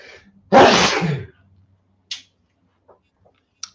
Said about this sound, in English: I think I'm going to sneeze just as I literally start the video.